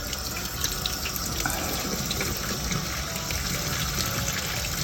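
Water runs steadily from a tap, a continuous close splashing rush with no pauses and no talking.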